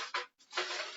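Aluminium foil crinkles as it is pressed down into a foil pan, two bursts of broadband rustling separated by a short pause, close and fairly loud with no talking.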